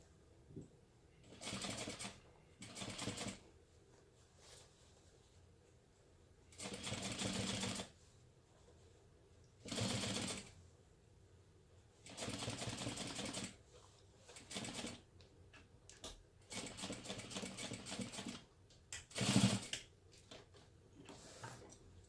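A sewing machine stitches across the binding end of a fabric beauty bag in short, separate bursts of rapid whirring, close and fairly quiet, with pauses of near silence between runs.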